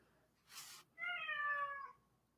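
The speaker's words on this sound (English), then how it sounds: "do you want to see my cat?" A house cat gives one clear, drawn-out meow, faint and indoors, just after a brief rustle.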